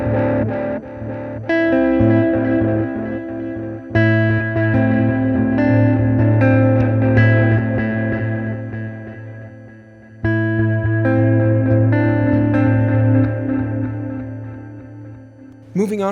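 Electric guitar through a stereo effect pedal with its spread control turned fully up, playing a run of ringing chords and sustained notes that swell and fade, loud and close.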